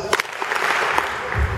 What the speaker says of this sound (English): Just two claps every time they receive this gift